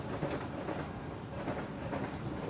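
A train rolls past on railroad tracks in a Mississippi Delta town, a steady distant rumble with soft rhythmic clacking of wheels over rail joints, fairly quiet and continuous.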